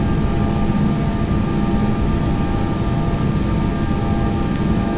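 An Airbus A320 with PW1000G engines runs at takeoff thrust, a loud, steady jet roar holding constant throughout without letup.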